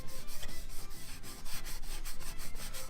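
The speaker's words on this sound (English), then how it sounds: "I know this sandpaper is real nice when it's wet." Wet sanding of a Nerf MA37 blaster with fine-grade sandpaper: close, continuous rhythmic rasping strokes back and forth, steady and fairly loud throughout.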